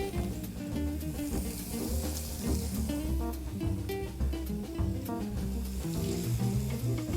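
Chicken legs coated in tikka sauce sizzle loudly in a hot pan, a dense, continuous crackle and spit running close up with irregular pops and no talking over it.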